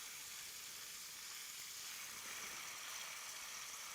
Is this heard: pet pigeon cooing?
no